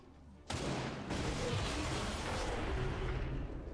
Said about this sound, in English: A loud explosion draws a full swarm of them even closer.